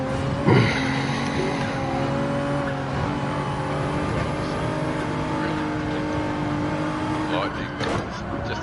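Race car engine from Gran Turismo 7 droning steadily at high revs, with tire squeal and a shifting pitch, loud and continuous while people talk over it.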